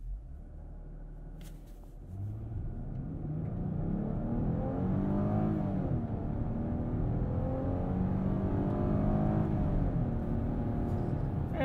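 A 2020 Chrysler Pacifica Limited minivan pulls away from inside the cabin, its engine hum and road rumble building steadily and moderately, without any sharp roar.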